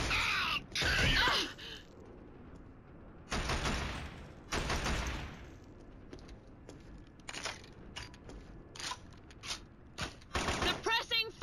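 Suppressing gunfire in the PS3 shooter Killzone, loud bursts of automatic fire in several rapid volleys separated by short gaps, with sharper single shots and clatter near the end.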